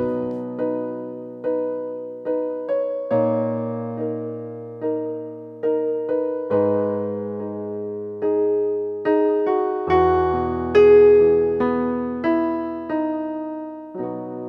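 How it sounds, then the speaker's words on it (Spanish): Dry piano with no reverb plays a slow sequence of chords and single notes, each attack decaying cleanly in a steady rhythm, close and alone with no voices. "Entonces lo vamos a apagar y el piano suena así."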